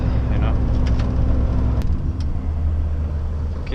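Truck pulling a trailer on a winter delivery road, a continuous low rumbling engine and road noise close by, with a few faint clicks and knocks.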